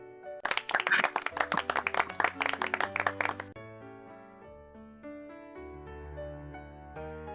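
A short burst of applause at a certification ceremony, a scattered handful of people clapping for about three seconds, moderately close, then giving way to soft background music with no talking.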